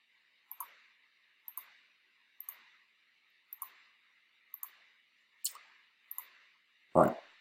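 Sharp, dry computer mouse clicks, about eight of them, arrive at a roughly steady pace, each followed by a faint secondary tick. They are close and fairly quiet, with a louder, fuller thump at the end.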